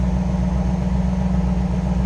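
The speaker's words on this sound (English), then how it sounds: "Let's slip around to the back of this so you can hear this car run." A stock 1995 Pontiac Firebird Trans Am convertible with its 5.7-liter LT1 V8 idles smoothly, a steady low rumble with an even pulsing beat heard up close from behind the car, with no voices.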